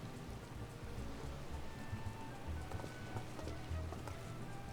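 Steady rain in the video game Final Fantasy XIV, a continuous soft hiss of falling drops at a low, even level with no talking.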